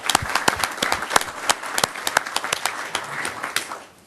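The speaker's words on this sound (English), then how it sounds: "I want to give you a big round of applause for just putting that service forward for the city of Camarillo" A city council meeting in Camarillo gives a volunteer a round of applause: a small room of people clapping in a brisk, uneven patter that holds steady, then fades away at the end.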